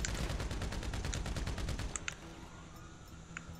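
Rapid automatic gunfire from the GTA 5 Online video game, a fast rattling burst of shots for about two seconds, then a few scattered single shots at a distance.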